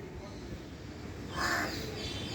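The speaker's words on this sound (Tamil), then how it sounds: "என்ன வேணும் என்ன வேணும் காக்கையார என்ன வேணும்" A crow caws once, loud and close, a harsh burst standing out over steady low background noise.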